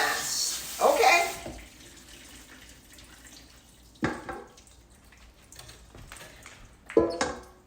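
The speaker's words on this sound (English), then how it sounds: "I'm just going to just go through it and just rinse them one more time" Split peas rinsed under a running sink tap, water splashing briefly at the start and then in a few short bursts with quieter gaps between.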